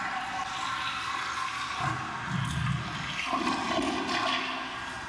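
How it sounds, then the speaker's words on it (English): A toilet flushes nearby, a steady rushing swirl of water that surges and gurgles as the bowl empties and refills, continuous for several seconds with no talk. "you gotta just let the toilet flush all the way through"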